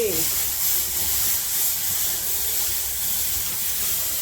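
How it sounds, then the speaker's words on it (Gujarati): A pot boiling over on a gas stove gives a loud, steady hiss of steam and spray that stays constant and close, with faint voices underneath. "ઉભરો આવી ગયો છે."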